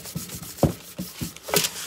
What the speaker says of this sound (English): you take super fine sandpaper. I think this is, what grade is this? 400. And you lightly scuff the entire surface.